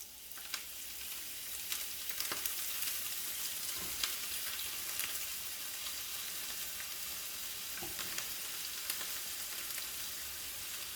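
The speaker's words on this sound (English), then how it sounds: "So the flour coated onions are now about to be fried" Steady crackling sizzle of flour-coated onions frying in hot oil for koshari, with occasional sharper pops, continuous and fairly quiet with no voices.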